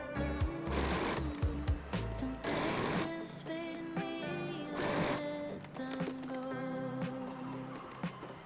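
A sewing machine stitches an elastic channel on a cami square-neck summer dress, running in several bursts of rapid mechanical whirring separated by short pauses, close and clear.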